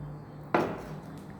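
A metal frying pan clanks once on a home stove while fried flat rice noodles with prawns are being cooked, a single sharp knock in an otherwise quiet kitchen.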